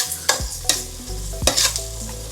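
Onions fry in a pan as a spoon stirs and scrapes them, a steady soft sizzle broken by several distinct scraping strokes.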